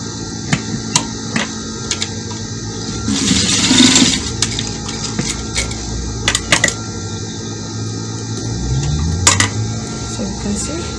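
Sewing machine runs a double stitch over elastic on an African-fabric hair bonnet, with short bursts of needle whirring and light clicks and taps between them.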